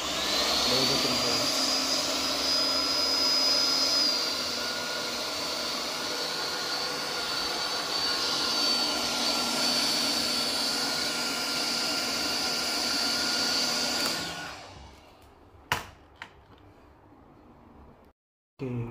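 A Philips SpeedPro Aqua multi-function 3-in-1 vacuum cleaner runs steadily with a loud, continuous whine and airy roar, then shuts off and winds down, followed by a few brief clicks and knocks.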